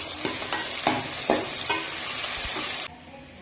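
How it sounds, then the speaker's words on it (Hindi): Onions with garlic and ginger paste fry in a pan for arvi masala, a close, steady sizzle broken by several scraping stirs of a spoon before the sound drops away. "और 2 मिनट के लिए इसको भूनेंगे।"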